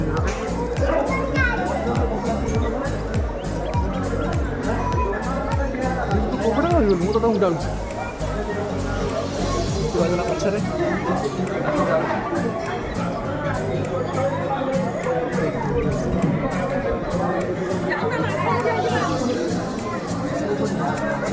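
Dense crowd thronging a temple at a mandap, continuous loud chatter and children's voices all around, with a nearby voice talking over the babble.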